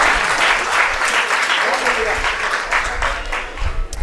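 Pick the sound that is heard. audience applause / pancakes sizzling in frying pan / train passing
audience applause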